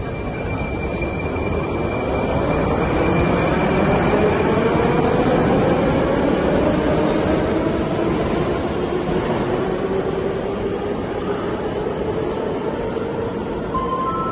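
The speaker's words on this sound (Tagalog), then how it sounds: "Train is coming." Moscow metro train pulling into Krylatskaya station, a loud, steady rumbling roar with a slowly rising whine that fills the whole stretch at close range.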